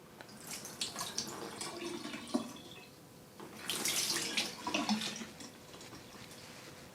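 Water is dumped from a container onto an insulated baggy snowboard jacket. It makes a splashing, pattering rush that swells, fades and surges again, close by with no speech.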